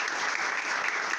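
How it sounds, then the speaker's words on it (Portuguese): Brief burst of dense applause from a crowd at a church festival for São Sebastião, even and sustained throughout with no pauses. "Muito bem, em palmas para a Gabi, o Gabriel."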